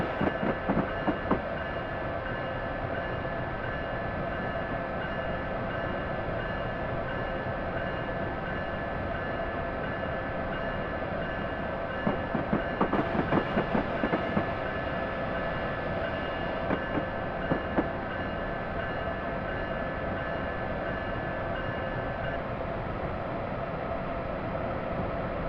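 Amtrak passenger train running on Northeast Corridor track between Washington and Baltimore in Train Simulator 2021, a steady, continuous rumble of rolling wheels with a few brief clusters of clicking rail joints, no talking.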